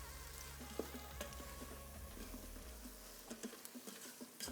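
Boti (tripe) curry ingredients with salt are stirred and mixed in a pan, a faint sizzle with soft scraping taps that grow more distinct toward the end.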